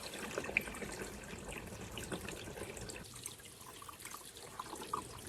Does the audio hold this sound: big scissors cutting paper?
no